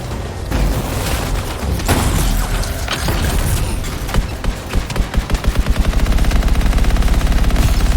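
Loud gunfire from the video game Anthem: rumbling bursts and booms at first, then a fast, steady stream of automatic shots that grows more regular toward the end, with no talk.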